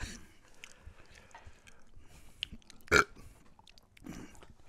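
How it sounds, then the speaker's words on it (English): A single loud burp after eating Carolina Reaper salsa, surrounded by faint chewing and mouth noises, close to the microphone. "the burps are bad"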